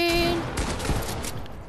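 Shots from a pump-action shotgun in a video game land in a quick cluster of blasts amid dense game noise, close and fairly loud, with a short tone ringing at the start.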